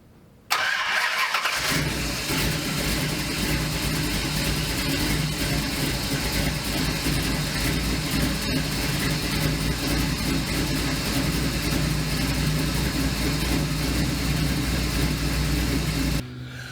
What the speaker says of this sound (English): I started the car up